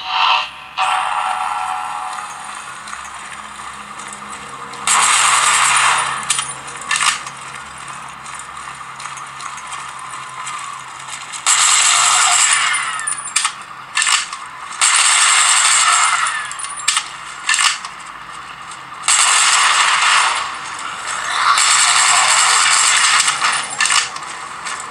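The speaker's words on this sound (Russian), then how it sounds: "Давайте посмотрим, как работает Dead Trigger 1." Dead Trigger 1 game audio plays from a smartphone, with bursts of clattering, metallic effects separated by short quieter gaps, and no talk.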